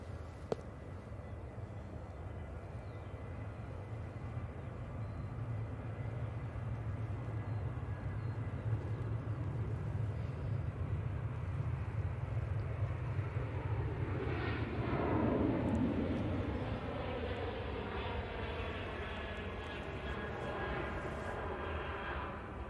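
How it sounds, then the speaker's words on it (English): A Ryanair airliner rolls down the runway on its takeoff run at Manchester Airport, a steady broad roar with a swelling, sweeping engine whine in the middle as it passes, heard from a distance without talk. "Ryanair on the roll."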